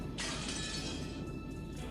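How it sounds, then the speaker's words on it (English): A glass window shatters as an antique chair is smashed against it: one sudden burst of breaking glass that rings on for about a second, then fades. It sounds fairly faint and distant, with no voices. "Glass smashed with that violent sound, and the frame groaned and creaked"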